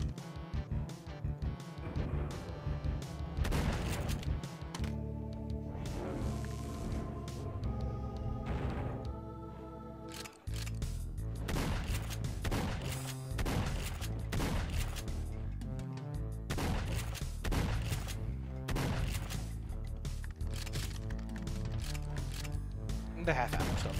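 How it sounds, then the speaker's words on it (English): Heretic's ethereal crossbow fires in repeated bursts during dense, loud gameplay, the shots mixed with explosions, pickups and a driving music track while a player talks over the action. "this is the shotgun, aka the ethereal crossbow, aka your staple weapon"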